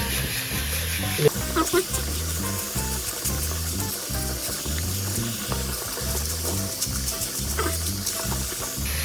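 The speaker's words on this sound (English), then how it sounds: "Quickly just rinse them." LEGO bricks rinsed under running tap water, a steady broadband splashing and rushing with the pieces rattling in the stream, continuous and close throughout.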